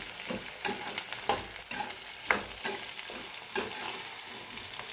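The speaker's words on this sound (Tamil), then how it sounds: "இப்போ நம்ம பாதி வேக்காடை வதக்கி எடுத்துக்கலாம்." Small onions sautéing in a pan for onion thokku, a continuous close sizzle broken by regular scraping stirs of a spatula against the pan, with no voices.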